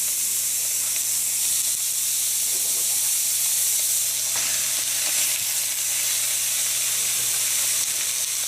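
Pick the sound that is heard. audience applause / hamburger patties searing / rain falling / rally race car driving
hamburger patties searing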